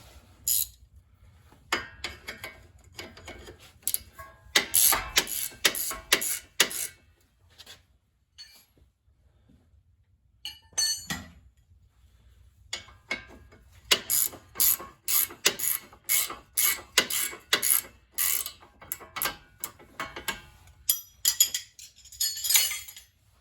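A Milwaukee 22 mm ratcheting wrench clicks in rapid bursts of fine ratchet ticks, close and crisp, with short pauses between runs and no talking.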